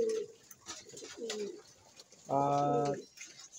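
Domestic pigeons at a fancier's loft cooing close by: a few short soft coos, then one louder, longer rolling coo near the end, with faint background noise between calls.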